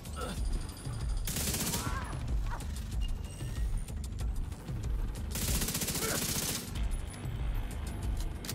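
Sustained automatic fire from the Exotic Chameleon gun in a shooter video game, dense rattling volleys with a couple of brighter bursts, loud and continuous over game effects and background noise.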